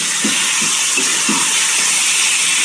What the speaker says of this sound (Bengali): এই যে চাটনিটা এখন আমি ভালো করে ভেজে নিই